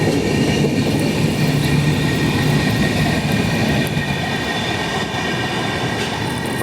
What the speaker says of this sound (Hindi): संबलपुर की तरफ कोई तो ट्रेन बढ़ रही है।